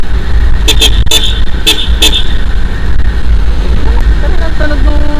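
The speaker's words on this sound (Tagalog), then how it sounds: "Mix and match kasi itong busina na to eh." Mixed old and new car horns sound in a burst of several sharp, close toots, followed by a rising, wavering horn tone, over steady road noise.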